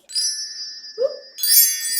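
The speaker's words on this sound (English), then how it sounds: "a little bit of wind chime time" Wind chime ringing in a quiet room, bright shimmering metallic tones sustaining and decaying, then a second louder cluster of overlapping chimes.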